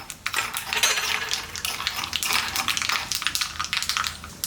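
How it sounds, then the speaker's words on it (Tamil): Urad dal and mustard seeds splutter in hot oil, a dense crackle of small pops and sizzling close by, fairly steady throughout with no voice over it. "இதில் ஒரு 1/4 ஸ்பூன் அளவுக்கு உளுந்தம்பருப்பும் 1/4 ஸ்பூன் அளவுக்கு கடுகும் எடுத்து வச்சுருக்கேன், இப்போ போட்டுக்கலாம்."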